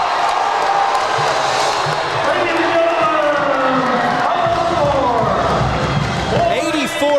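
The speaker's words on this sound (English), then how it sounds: "And listen to that crowd." A large basketball arena crowd roars and cheers loudly and continuously as time runs down, with whoops rising near the end and a commentator talking over the noise.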